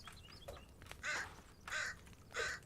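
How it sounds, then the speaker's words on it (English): Crows cawing in the survival game The Forest on a frozen map, three loud harsh caws in steady succession with fainter calls before them, close by over quiet ambience. "I like all these birds gathering"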